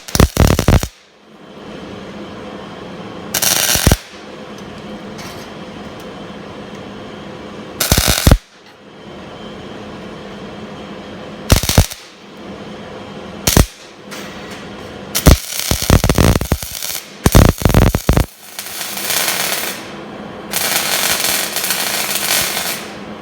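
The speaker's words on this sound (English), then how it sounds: "Have each section welded together. Like I said, 5 petals welded together." Steel rose petals are tack-welded together with a MIG welder in loud, sharp crackling bursts. The bursts are spaced a few seconds apart at first, then bunch into a quick series of repeated welds near the end.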